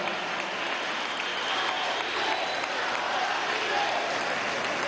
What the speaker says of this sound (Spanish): Vamos a darle un aplauso al profesor Germán Escarrá, laboralista.